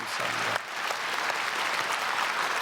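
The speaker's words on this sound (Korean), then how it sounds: "박수로 축복하겠습니다" Church congregation at a Sunday service applauding the choir after its hymn, a sustained burst of many hands clapping that starts sharply and carries on evenly, fairly soft in level.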